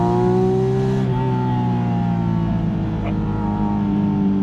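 Porsche Spyder RS engine held at around 6,000 RPM on a hill climb, a loud steady high-pitched engine drone with a slight shift in pitch partway through, heard from inside the car.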